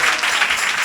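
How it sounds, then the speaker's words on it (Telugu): Loud, dense clapping from a church congregation at a prayer hall's tenth-anniversary service, sustained and even throughout with no pauses and no voices on top. "కొట్టు గట్టిగా చప్పట్లు దేవునికి సన్నిధిలో."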